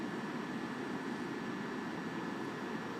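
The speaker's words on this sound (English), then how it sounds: "the boat is actually making a very similar sound to what my drone makes from a little bit farther away" A boat engine heard from a drone flying high above during a livestream gives a continuous whirring hum, even and moderately loud, like a distant motor blended with rotor noise, with no speech.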